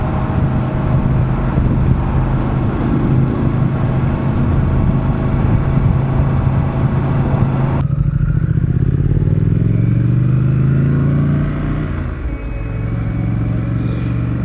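A Triumph Street Scrambler 900 motorcycle is ridden at steady speed, its engine droning loudly and continuously under heavy wind rush, with a gear change and dip in revs near the end.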